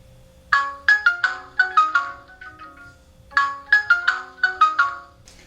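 A video doorbell's bright electronic chime melody plays two short repeated phrases of ringing tones, clear and close with a brief pause between them.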